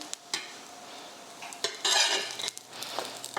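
English muffin in a pan with a little butter, giving a soft sizzle close by, broken by a few light clinks and scrapes of a utensil against the pan.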